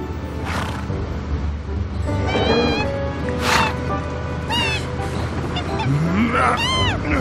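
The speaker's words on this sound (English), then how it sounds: "What is it with these damn birds?" Birds honk loudly in Final Fantasy VII Remake Intermission, several harsh, rising calls overlapping in quick succession against a busy game soundscape.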